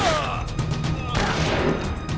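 Rapid gunfire rattles in the video game Metal Gear Solid The Twin Snakes, a dense continuous fusillade of shots with game effects layered over it, loud and close.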